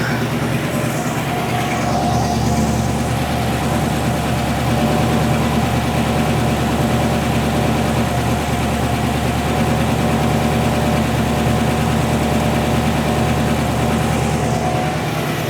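A 1947 Ford engine runs at a steady idle, a continuous loud low rumble with mechanical hum that holds evenly throughout, close by with no talking.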